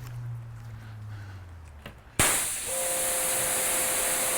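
A SunJoe pressure washer is fitted with a 2.0 nozzle. A low motor hum idles quietly, then a sudden loud, sharp hiss of spray bursts in about halfway through and holds steady and close to the end.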